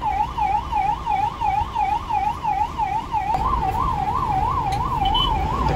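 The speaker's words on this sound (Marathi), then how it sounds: "आपल्या मागे ॲम्ब्युलन्स आहे" An ambulance siren wails steadily in a fast, even up-and-down cycle, trapped in heavy traffic behind an MSRTC seater-cum-sleeper bus, with a low road and engine rumble throughout.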